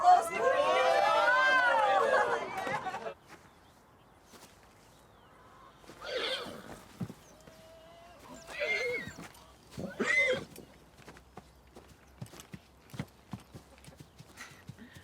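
A horse on a ranch gives a loud, rippling whinny at the start, followed by scattered hoof clops and shuffling, with people talking nearby.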